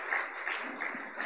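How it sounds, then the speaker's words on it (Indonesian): Brief applause from a church congregation, a soft steady patter of many hands clapping, somewhat distant and fairly quiet. "Tepuk tangan yang meriah buat Tuhan."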